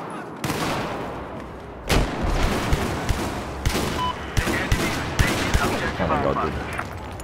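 Shotgun frag rounds firing and exploding in Battlefield 4, a string of sharp, loud blasts at irregular intervals, each with a short explosive burst, over a constant background of battle noise.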